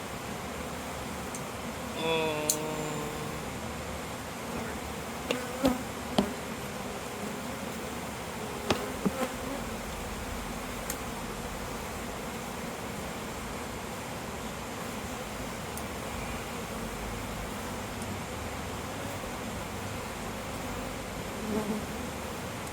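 A dense, continuous buzz of many honey bees at an open hive during an inspection, with a few faint knocks and clicks scattered through it.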